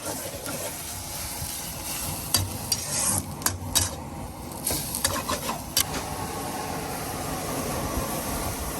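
Minced pork stir-frying in a pan, with continuous sizzling and scraping stirs, irregular clanks of a utensil against the pan, close and fairly loud.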